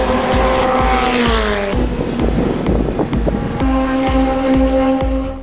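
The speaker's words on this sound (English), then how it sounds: "when I showed up, wall-to-wall race cars" Loud race car engines scream past at high revs, with gear changes and pitch shifts as cars rush by close on the track during a track day.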